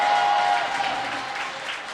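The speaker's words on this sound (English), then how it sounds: "just by the clear indication of the applause that rained from above" Crowd applause rains down from the stands at a high school varsity hockey game after a save, steady and fairly loud throughout, with a faint high tone near the start.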